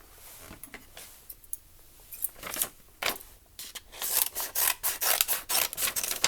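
Scissors snipping through paper in a series of short crisp cuts, sparse at first then quicker and louder near the end, with no talking.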